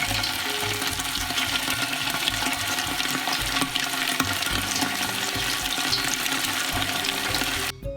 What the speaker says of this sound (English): So we're going to fry these first.